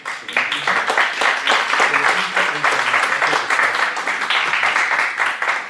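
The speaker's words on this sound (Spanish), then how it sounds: "le pido un fuerte aplauso a los autores del libro" An audience at a book launch claps for the book's authors, a dense, steady wash of many hands lasting the whole stretch without letting up.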